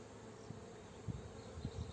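Honeybees buzzing around an open hive during a queen bee check, a faint steady hum with a few louder passing buzzes near the end, no voices.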